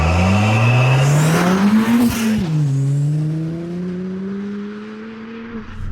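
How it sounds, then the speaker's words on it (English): A hybrid-turbo Ford Fiesta ST, 302 bhp, pulls hard in second gear, its engine note loud and rising with a brief dip at a shift-like break before climbing again, close and continuous. "So second gear, ready? We're gonna spool up a little bit and let her go."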